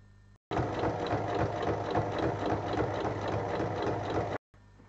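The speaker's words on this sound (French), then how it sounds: "on pique sur toute la longueur" A sewing machine stitches long strips of backpack fabric in one continuous run of about four seconds, a close, steady rattling whir that starts and stops abruptly, with quiet room sound on either side.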